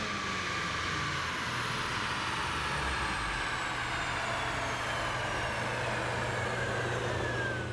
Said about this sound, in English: Time to get the car dynoed again.